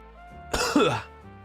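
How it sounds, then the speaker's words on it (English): A single short cough burst, close and fairly loud against a quiet background, rising sharply and fading within about half a second. "I got the coughs."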